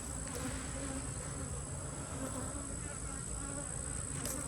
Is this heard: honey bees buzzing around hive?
yes